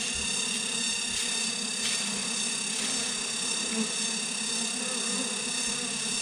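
Wild forest bees drone continuously around a hive in woodland, a dense steady buzzing close to the microphone with no voices.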